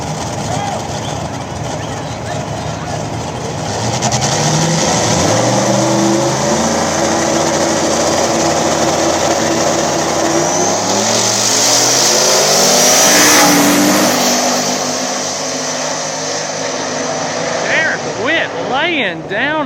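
Small-tire drag race cars, including a turbocharged SN95 Mustang, roar down the strip together in a loud, sustained engine blast with rising and falling pitch. A commentator talks over the noise throughout.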